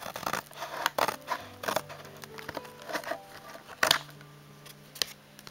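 Scissors snipping through a Weiss Schwarz trading card booster box for the Sword Art Online Ordinal Scale movie set, heard as a few close, sharp cuts mixed with light cardboard rustling and handling.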